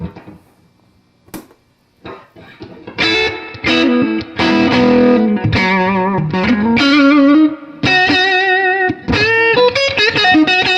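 An electric guitar plays loud, sustained chords and single notes through a warm, slightly overdriven 1968 Super Reverb tube amplifier, ringing out with no voices.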